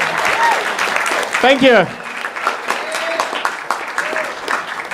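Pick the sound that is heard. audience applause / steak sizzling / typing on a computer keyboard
audience applause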